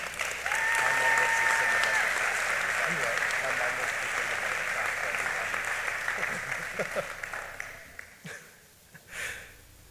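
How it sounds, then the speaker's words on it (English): An audience at a high school senior awards ceremony applauds top students, a full, loud round of clapping that holds steady and then thins out and fades near the end. "please give them a round of applause"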